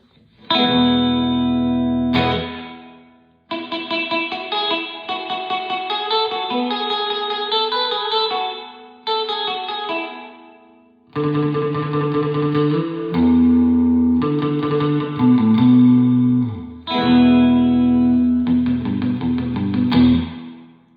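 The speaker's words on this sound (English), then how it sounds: "So you can hear that gate and that reverb." Distorted electric guitar chords through a Surfy Industries SurfyBear Compact spring reverb pedal with a very short gated reverb that cuts off abruptly, several strummed phrases separated by sudden silences.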